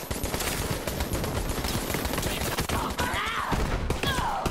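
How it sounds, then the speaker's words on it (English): Rapid, sustained automatic gunfire fills a shooting fight in Borderlands 3, loud and dense with continuous bursts and no pauses, with faint clatter layered beneath. "I'm just gonna keep on shooting"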